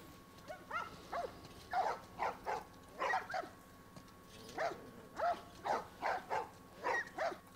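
Several dogs barking repeatedly in The Last of Us Part 1 video game, a steady run of loud, evenly spaced barks through the whole stretch, heard fairly close over a faint ambient bed.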